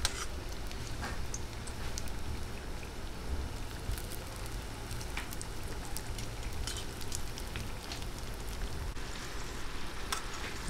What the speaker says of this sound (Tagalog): Prituhin lang po natin hanggang mag-golden brown yung magkabilang